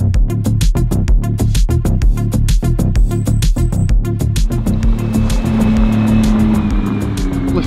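A McLaren P1 supercar's engine roars loudly and steadily at close range at a Lamborghini dealership in Newport, with a thick, deep drone that smooths into a sustained tone toward the end. No voices.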